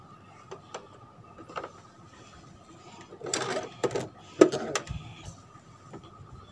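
A sewing machine stitches an extension onto a short T-shirt sleeve, running in short, close, uneven bursts of rapid needle clatter with brief pauses between them.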